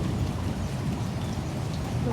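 Rain falls steadily as a downpour eases off, making a dense, even hiss of drops on surfaces with no clear pauses. It sounds close and fairly loud throughout.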